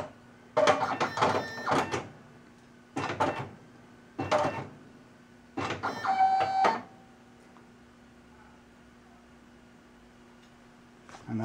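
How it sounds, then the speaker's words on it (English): A Fastback Model 20 binding machine binds a strip book, giving several short mechanical whirring and clicking bursts at irregular intervals over a steady low hum, with no talking. "Hit the green bind button and insert the strip."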